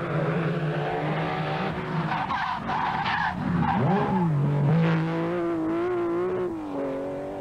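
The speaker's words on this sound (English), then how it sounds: "As Per Eklund comes down the hill in his Toyota Supra, lying 2nd in Group A" Per Eklund's Toyota Supra Group A rally car coming down a hill on the Circuit of Ireland, tyres skidding and squealing while the engine note rises and falls in long sweeping pitch bends, loud and close.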